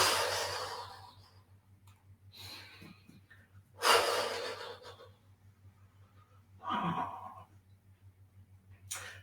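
Breathing during a Chinese meridian exercise: soft, close breaths with a few stronger exhaled gusts rising and fading over a low, steady background hum, no speech.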